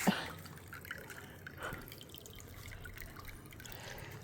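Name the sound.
bubbling birdbath fountain water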